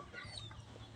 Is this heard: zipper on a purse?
no